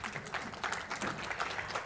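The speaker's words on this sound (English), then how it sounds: "Can I have a round of applause, please?" Conference audience at a space industry startup session applauding, a steady wash of many hands clapping at moderate distance, fairly soft and continuous with no talk.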